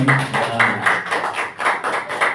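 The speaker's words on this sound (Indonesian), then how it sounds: "Tepuk tangan semuanya." At a school gathering for SMA Negeri 16 Jakarta, a few people clap in an uneven, rhythmic pattern, the close claps sharp and distinct rather than a full crowd's roar.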